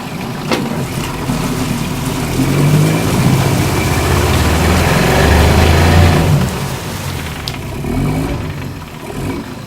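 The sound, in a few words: Mercury outboard motor running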